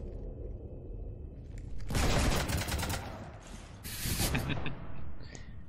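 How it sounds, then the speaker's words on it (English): Gunfire strafing a ship in the Mass Effect 3 video game, two loud bursts of rapid shots over a low rumbling background, with a short quieter gap between them. "You want to stop shooting up my ship?"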